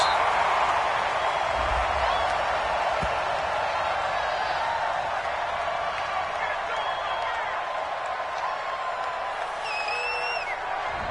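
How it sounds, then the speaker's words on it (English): A home crowd in a baseball video game cheers a call as a steady, broad roar, with commentators talking over the crowd noise throughout. "This home crowd, they're happy with that call."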